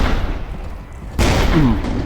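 Sniper fire and an explosion in the Roblox game Edward the Man-Eating Train hit with a sudden heavy boom after a stretch of rumbling game noise. A brief whistling tone follows under continuing loud rumble.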